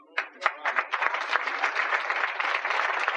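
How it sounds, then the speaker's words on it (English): An audience at a Southwest Airlines and Ronald McDonald House event breaks into applause, starting with a few distinct claps that quickly swell into steady, sustained clapping from many hands. "let's give these guys a huge round of applause"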